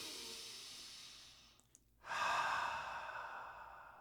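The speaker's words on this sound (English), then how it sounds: "when you take that deep breath" One deep breath, a slow soft inhale that fades into a short pause, then a fuller, louder exhale rushing out close to the mic in a quiet room, with no talking.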